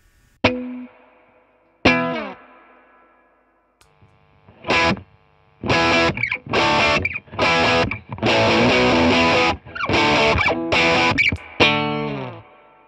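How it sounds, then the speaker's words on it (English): Distorted electric guitar through the overdrive channel of a Mesa Boogie Mark V 35 combo amp, no reverb, plays crunchy overdriven chords and short bursts, separated by brief pauses, loud and close with no talking. "I'll switch over to the drive channel where there's no reverb"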